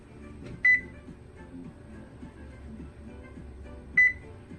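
Two short, high electronic beeps from a kitchen oven's control panel as preheat is set to 360, spaced about three seconds apart over a quiet room background.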